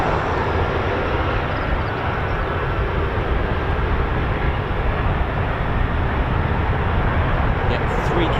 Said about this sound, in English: Yeah, 3 KC-135s on the move.